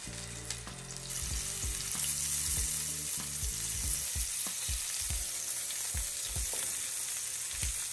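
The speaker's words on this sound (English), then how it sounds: "A little oil in the pan first, and then we can add the sausages" Sausages frying in a little oil in a pan for a full English breakfast, a quiet start, then a sudden steady sizzle rises and keeps going close by with occasional pops, no one speaking.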